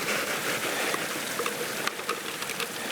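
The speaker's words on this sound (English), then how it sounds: "Now I'm just gonna run my material through my sluice" Water and gold-bearing material run steadily through a sluice, giving a continuous close rushing wash with scattered small gritty clicks and splashes, with no voices over it.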